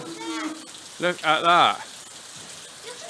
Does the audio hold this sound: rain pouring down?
yes